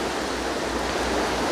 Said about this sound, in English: Hopefully you can hear me through the sound of the river.